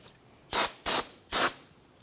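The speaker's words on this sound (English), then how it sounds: "go ahead and give it a quick spray with some spray solvent to clean that up." Three short bursts of aerosol brake-cleaning solvent sprayed onto rear brake parts of a Jeep Grand Cherokee, each a close, loud hiss lasting a fraction of a second with brief gaps between.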